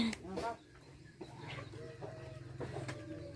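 Chickens cluck in short bursts around a rural Thai house, fairly faint and close, with a person talking over them.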